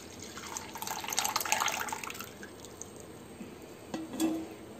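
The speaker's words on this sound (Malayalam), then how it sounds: "അപ്പോൾ ഞാൻ ഇതിലേക്ക് തന്നെ തിരിച്ചൊഴിക്കുവാണേ അരിച്ച്." Strained tea is poured back into a coconut shell, a soft, close liquid trickle lasting about two seconds, then quiet, followed by a brief light clink.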